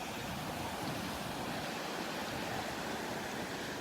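Surf breaking on a shallow sandbar off a Gulf beach at Delnor-Wiggins park, a steady, continuous wash of waves with some wind noise, no voices.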